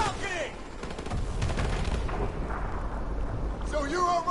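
Gunfire in the Call of Duty Modern Warfare Remastered mission War Pig, heavy rolling bursts and booms over a loud combat din, with voices shouting through the battle.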